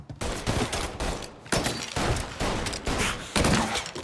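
Rapid gunfire from Mafia: Definitive Edition, dense overlapping shots and bursts filling the whole stretch, loud and close, with brief gaps between volleys and no talk.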